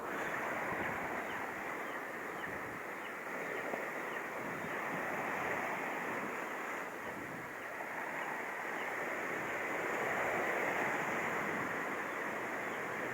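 Surf and gusting wind roar steadily on a Philippine coast at Bari-is, Caibiran, as Typhoon Opong approaches, a dense continuous wash of breaking waves with no pauses and no talk.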